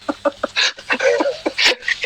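Several birds, around eleven kept in a separate building above, calling from upstairs in a rapid series of short, chirpy and clucking notes that come in irregular bursts and sound close.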